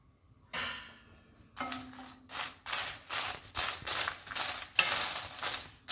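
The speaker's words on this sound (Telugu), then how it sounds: "ఎండుమిర్చిని వేయించుకోవాలి మాడిపోకుండా వేయించుకోవాలి" Dried red chilies fry in oil in a pan, giving bursts of sizzling crackle that come in repeated pulses as the chilies are stirred, fairly quiet and close.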